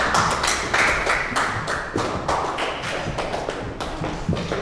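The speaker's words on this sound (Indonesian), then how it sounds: "Beri tepuk tangan." A hospitality class applauding after a group presentation, with dense, continuous clapping from many hands in a room and sharp uneven slaps, steady for several seconds.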